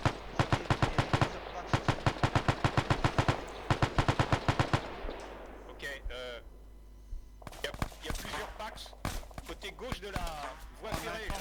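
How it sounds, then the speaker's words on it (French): Repeated rapid bursts of machine gun fire in the video game ArmA 3 during a World War II station-defence scenario: sharp evenly spaced shots in long volleys, a pause, then more bursts, with voices over radio talking between them. "Attention, il y a des rafales."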